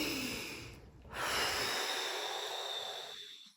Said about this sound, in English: One last big breath.